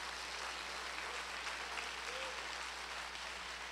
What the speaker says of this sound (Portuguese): Você podia aplaudir o Senhor nesse momento